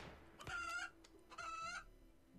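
Chickens in the video game Rimworld cluck and squawk in two short bursts, fairly close and clear, with a brief pause between them.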